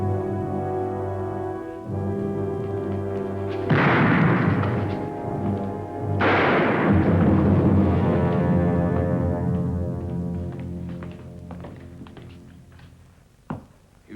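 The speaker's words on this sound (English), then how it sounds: "You shot him in the back." Two heavy booming gunshots from an old western scene, loud and close, each followed by a long rolling echo that slowly fades over a low musical drone.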